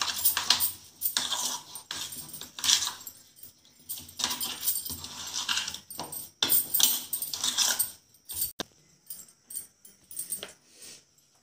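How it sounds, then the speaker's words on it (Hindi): Khoa being stirred with sugar in a bowl for Bengali-style chumchum, with repeated scraping and clinking of a spoon against the bowl in uneven bursts, fairly close and without talk. "इसमें शक्कर अच्छे से मिक्स कर लूँगी।"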